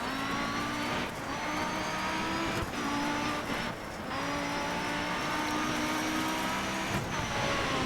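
A rally car with a large rear wing in the racing game DiRT 3 roars loudly throughout, engine pitch climbing and dropping through gear changes, with brief tyre skids and no commentary over it.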